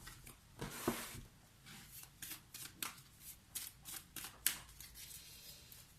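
Tarot cards shuffled and handled by hand, a run of quick papery riffles and flicks in uneven bursts, close and quiet with no one talking.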